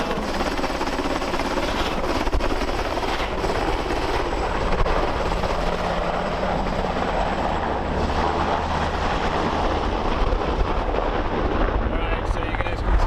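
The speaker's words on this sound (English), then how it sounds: "you guys can see all the helicopters here, Frenchie." Helicopters flying overhead, a loud continuous rotor roar and thump that fills the scene steadily from start to finish.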